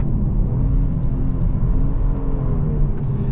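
Engine of a 2024 Genesis G70 V6 pulling hard under acceleration, a loud, steady low rumble and drone heard from inside the car, without talk.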